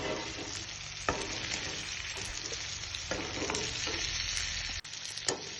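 Pieces of fried chicken coated in spices sizzle in a frying pan as a spoon stirs and scrapes through them, with occasional knocks against the pan over a constant close hiss.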